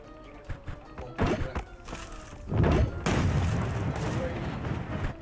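Heavy booming blasts and thuds of cannon fire in the game Sausage Man, several impacts building into a sustained rumble, with a voice speaking over them.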